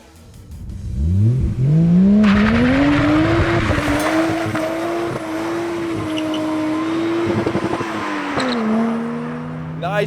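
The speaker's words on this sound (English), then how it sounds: "Nice blow-off noises here." Toyota Chaser with a 1JZ-GTE turbo engine accelerating and revving loudly close by, with the pitch rising and settling, and short bursts of hiss from the blow-off valve between revs.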